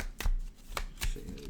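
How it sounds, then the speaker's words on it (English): Tarot cards being shuffled by hand, a few quick riffling bursts and soft slaps close by, brief and fairly quiet, with no talking. "One more shuffle."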